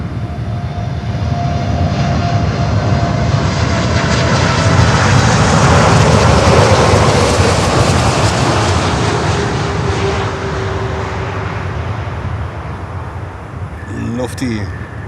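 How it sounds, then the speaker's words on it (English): A Martinair Cargo Boeing 747 lands at Miami. Its heavy engine roar swells to a loud peak and then fades out over about fifteen seconds, with voices in the background. "heavy 747, short final, runway 9, clear to land"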